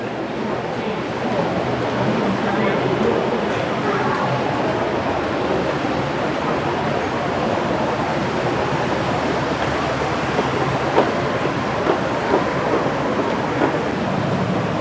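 Steady broadband rumble and hiss of a BTS Skytrain at Saphan Taksin station in Bangkok, continuous and fairly loud throughout, like a train rolling through with wind and track noise and no clear voices.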